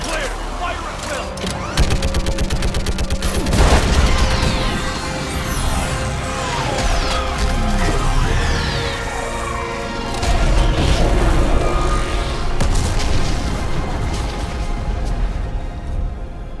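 An orbital strike and gunfire in the Mass Effect 3 video game, with dense rapid shots, heavy booms and crashes under a loud battle soundscape and shouted voices.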